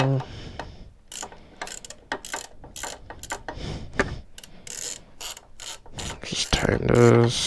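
Ratchet with a 10 mm socket tightening a chain guide bolt on a Honda CBR600RR motorcycle, a run of quick close clicking bursts that grows louder toward the end.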